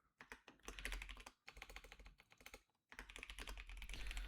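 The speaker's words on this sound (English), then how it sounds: "You can start typing the name of the card." Quick clattering keystrokes on a computer keyboard come in three bursts of rapid typing separated by short pauses, close and fairly quiet.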